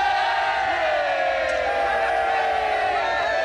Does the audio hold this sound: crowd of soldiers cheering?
yes